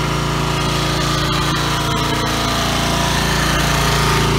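A Snapper 10 HP riding mower engine idles steadily and loudly close by, a constant rough mechanical drone that runs unchanged throughout, with no talking.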